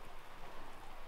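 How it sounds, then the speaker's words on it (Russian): Light rain beginning to fall outdoors under cloudy skies, a steady soft patter of drops filling the short stretch evenly at close range with no talk. "Дождик начинается у нас."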